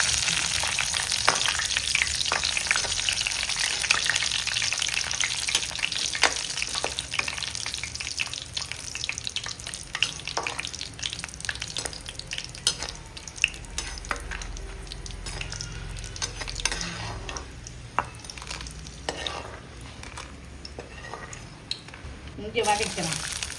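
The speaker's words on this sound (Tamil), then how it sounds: "மிளகாயை வறுத்து வச்சுக்கோங்க." Chillies fry and get stirred in a pan for a Tamil-style pirandai pickle, a steady loud sizzle and crackle with occasional scraping and clinks throughout, a voice talking intermittently over it.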